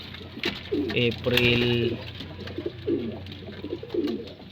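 Pigeons coo in a loft in several rounded, throaty bursts, near and fairly loud, while someone talks over them.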